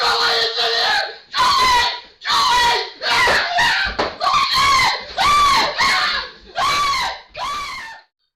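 A man in an office screams repeatedly in terror at a squirrel, about nine long, loud, harsh shrieks separated by short breaths, close and dominant throughout.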